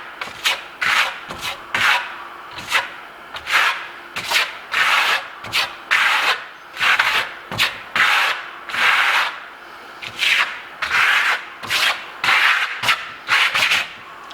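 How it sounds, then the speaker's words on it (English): A trowel spreads blue and white Venetian Marmorino plaster across a wall in a mottled technique, giving repeated rhythmic scraping strokes, close and steady, with short pauses between passes. "Trowel's almost flat, slides off, lift it up a little bit,"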